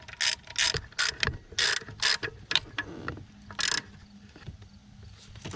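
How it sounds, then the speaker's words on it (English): A ratchet tightening bolts on a Kia Optima steering coupler, with several loud, close bursts of rapid clicking in a steady on-off rhythm that then give way to quieter handling noises. "now let's tighten this ones all the way."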